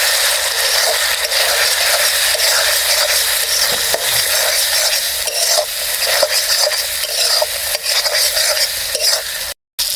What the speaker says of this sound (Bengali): এবারে সব মশলা একসাথে কষিয়ে নেব।